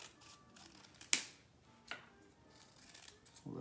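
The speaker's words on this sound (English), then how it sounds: "So now very carefully, you're gonna cut this down so you have a strip just like this." Scissors cutting construction paper into a strip, making quiet close snips with two sharp cuts standing out against a soft background rustle.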